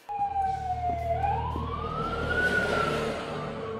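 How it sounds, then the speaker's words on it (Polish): A fire engine siren in Grand Theft Auto IV sweeps in a steady rising and falling wail over low vehicle rumble, loud and continuous throughout. "Straż pożarna jechała za tym."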